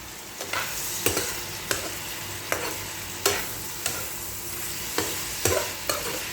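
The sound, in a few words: shrimp cooking in a pan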